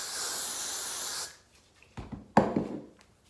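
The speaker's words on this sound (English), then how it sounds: "I'm gonna spray that" Hairspray is sprayed onto a synthetic wig in one steady, close hiss of about a second and a half, followed by a few soft handling rustles and taps.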